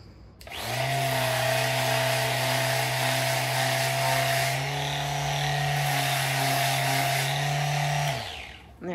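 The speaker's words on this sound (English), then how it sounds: "So what I'm going to do is I am going to sand this just to take the roughness out of this." A power sander whirs steadily on a wooden box, starting abruptly, holding a loud even hum for about eight seconds, then winding down.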